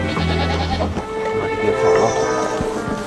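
Goats in a herd bleat close by, a few wavering calls overlapping in quick succession against soft background noise.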